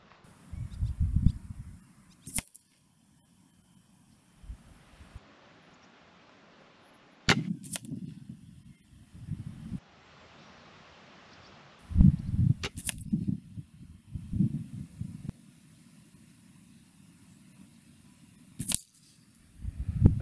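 An Air Arms TX200 HC air rifle firing pellets at targets outdoors: four crisp, isolated cracks spaced several seconds apart. A low rumbling of handling or wind noise sits between the shots.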